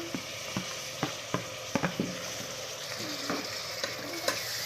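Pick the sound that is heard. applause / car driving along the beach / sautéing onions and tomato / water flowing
sautéing onions and tomato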